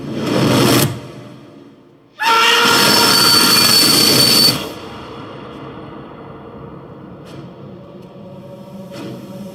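Train running on rails, with loud bursts of metallic wheel squeal and rolling clatter that stop and restart, then a quieter steady rumble with faint clicks toward the end.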